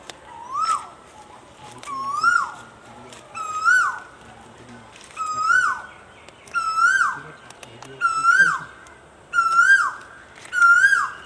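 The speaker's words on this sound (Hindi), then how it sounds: "कोयल का संगीत सुनाई पड़ रहा है आप लोग को।" An Asian koel calls in the early morning, giving a repeated rising whistled call about every one and a half seconds. It sounds clear and moderately loud against a quiet background.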